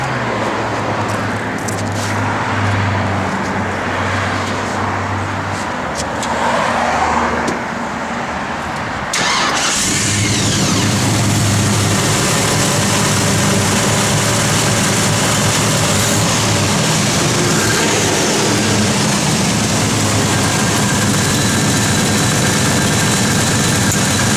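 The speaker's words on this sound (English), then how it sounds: "This car sounds good. Nice little cam to it." A 1972 Chevrolet Nova SS engine with a performance cam turns over and settles into a loud, lumpy idle with a choppy, uneven rumble that carries on steadily, no talking.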